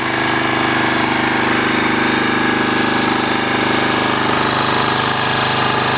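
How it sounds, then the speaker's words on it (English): A Huskee log splitter engine runs steadily, a loud, dense, unbroken mechanical drone with heavy vibrating rattle throughout. "the whole engine is actually vibrating a lot more than your typical engine on your lawnmower"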